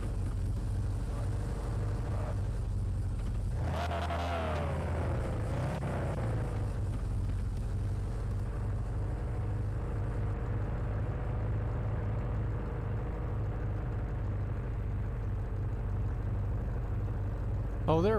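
A loud car engine drones steadily while driving through a PC video game, with a rising rev burst near the start before settling into a constant hum.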